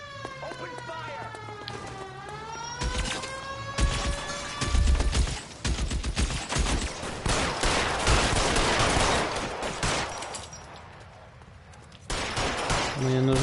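A shootout erupts in the video game L.A. Noire, with repeated gunshots and bursts of fire under music and voices, then a siren-like wail rises through the chaos.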